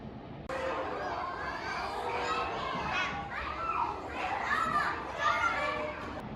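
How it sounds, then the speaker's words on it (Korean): Children play and chatter at a kindergarten in a Tokyo neighbourhood, a lively mix of distant young voices, shouts and laughter carrying steadily across the whole stretch. "애들 떠드는 소리가 아주 듣기 좋습니다."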